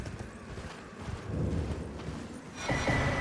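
Horse hooves clip-clop in a steady rhythm while riding across open ground in the video game Elden Ring, with a faint whinny and game ambience underneath.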